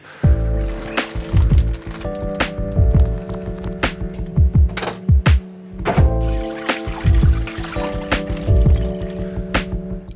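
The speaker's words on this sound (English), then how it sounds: "Let's get these awesome ENDLER guppies maybe." Water and male Endler guppies are tipped from a container into a fish tank, giving splashy pours and hollow knocks in irregular bursts, close and fairly loud with no talk.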